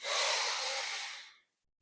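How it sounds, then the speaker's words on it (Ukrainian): A single long breath drawn in through the nose during a warming breathing exercise, a close, airy hiss lasting over a second and then fading to silence. "Якщо у вас виходить, вдихайте носом"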